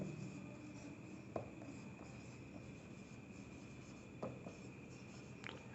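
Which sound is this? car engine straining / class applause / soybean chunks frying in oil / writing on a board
writing on a board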